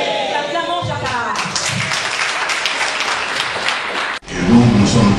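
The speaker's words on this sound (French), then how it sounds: "Acclamons Chaka" A crowd of supporters at a political rally in Paris applauds and cheers loudly under an amplified voice, the clapping breaking off briefly near the end before the voice carries on.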